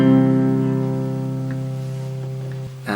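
A guitar chord is plucked on the top four strings and left to ring, sustaining and slowly fading alone before a brief new attack at the very end.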